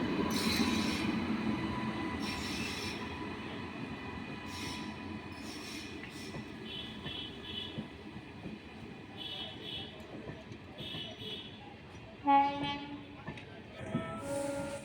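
The 13125 Sairang Express rolls along the tracks near Krishnanagar, with a steady rumble of wheels and carriages, squealing wheel tones and a loud clank or bang near the end, while faint speech sits under the noise.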